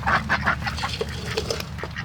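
A flock of Indian runner ducks on a tropical homestead quacks in quick overlapping bursts, close and busy, over a steady low background rumble.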